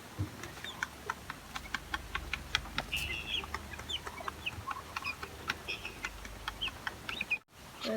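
Native Rhode Island Red chickens cluck and peep in a busy coop, with short repeated calls over a low rumbling background and a brief dropout near the end.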